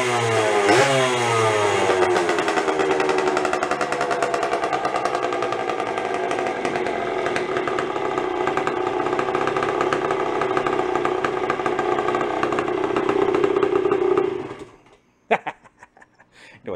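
A small Suzuki 80 motorcycle engine runs steadily after its idle fuel mixture is adjusted, buzzing loud and close, then cuts out near the end with a few sputters.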